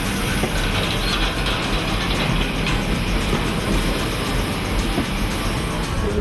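Train rolling through Tasmanian wilderness, heard from on board as a loud, continuous rumble with rhythmic rattling and clacking of the carriages over the rails.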